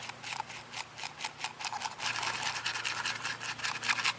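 A rubber bicycle inner tube is scuffed by hand before a Flex Tape repair, making a quick, rhythmic series of close rasping strokes, steady and moderately loud, over a faint low hum.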